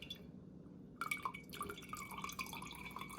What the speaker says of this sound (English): Then I'm gonna mash the pulp and try to get all of the liquid out of it. See how the stream has slowed down?